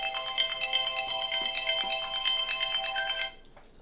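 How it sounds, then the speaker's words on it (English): A mobile phone ringtone plays a bright, repeating electronic melody for about three seconds, loud and close, then cuts off abruptly. "sorry, that was my phone."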